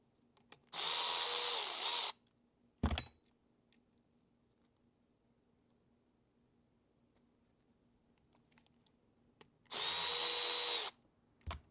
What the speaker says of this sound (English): I like to put the terminals back in, the terminal screws.